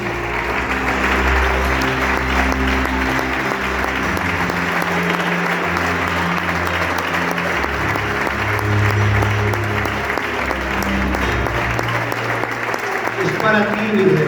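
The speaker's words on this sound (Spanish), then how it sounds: "que le rindan un aplauso al Señor" A church congregation applauds the Lord during a faith-healing service, a steady wash of clapping over a sustained low hum of organ or music, with speech-like sound running beneath.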